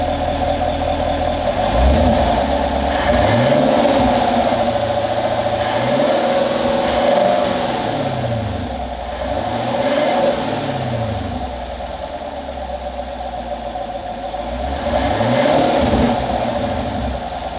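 Stock-airbox 2017 Chevy Camaro SS V8 revving repeatedly from a steady rumble, each rev rising and falling in a smooth swoop, loud and close with no talk.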